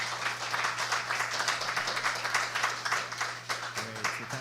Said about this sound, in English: Give our presenters another round of applause